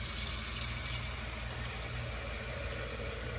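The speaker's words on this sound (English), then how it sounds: "I'm going to turn the sink on. And we'll put some water in here." Water from a kitchen sink tap pours steadily into a glass coffee maker carafe, a constant close hiss with no pauses.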